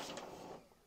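An HP LaserJet M234dwe printer running a copy job gives a steady, close mechanical whir and rattle, with a brief sharper click near the start and no one speaking.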